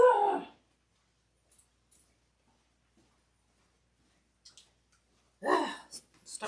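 A dog whimpers and lets out a howl, with a louder cry at the start and another near the end, separated by faint yips and breaths over near silence.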